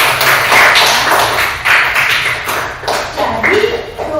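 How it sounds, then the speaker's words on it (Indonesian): Classroom group clapping to cheer a student who answered all three questions correctly, a loud rhythmic series of claps that continues steadily throughout, with voices mixed in. "Kita kasih tepuk semangat untuk teman kita yang sudah menjawab tiga-tiganya adalah benar."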